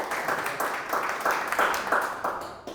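An audience at an academic panel discussion applauds, a soft, fairly distant patter of overlapping claps that pulses steadily for about three seconds.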